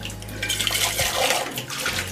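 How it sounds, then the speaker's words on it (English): A soap-making item is dropped into water to be rinsed, with a steady rush of running water and splashing that dips briefly before carrying on, close and continuous. "I'll put this straight into the water"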